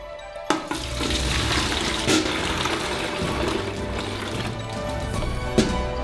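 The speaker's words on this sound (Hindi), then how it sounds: "हम बाल्टी में रस जमा करेंगे, इसलिए हम कटोरे में से डालेंगे।" Carrot juice pours from a bowl into a bucket with a steady, splashing liquid stream, close and moderately quiet, broken by a few sharp clatters.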